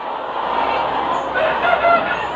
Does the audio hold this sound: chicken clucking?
yes